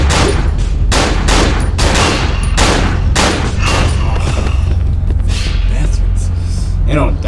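Dense gunfire in the horror video game Cry of Fear, a loud continuous barrage of rapid shots with sharp repeated bursts over a constant low rumble of music and ambience, with no talking.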